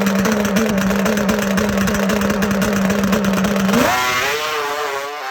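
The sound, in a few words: racing two-stroke motorcycle engine, throttle on and off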